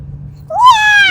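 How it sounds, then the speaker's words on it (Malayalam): A single cat meow rises and bends downward, loud and close, after a brief quiet stretch with faint low background hum. "പൂച്ച"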